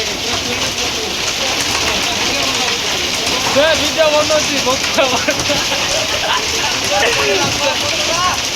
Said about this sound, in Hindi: भयंकर वर्षा गाइस